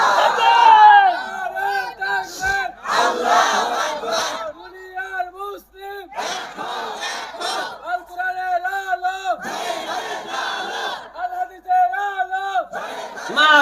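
A large crowd at a religious political rally shouts the takbir back in unison, loud rhythmic chanted cries rising in repeated waves, alternating with a lead voice.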